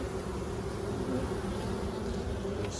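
Honey bees buzz steadily inside hive boxes, a dense continuous drone close by with no pauses, most of the colony gathered in the top box.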